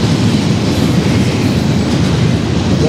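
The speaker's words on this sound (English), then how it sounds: "Another train." A passing train rumbles close and loud in a continuous wash of wheel and rail noise, heavy and steady throughout with no voices.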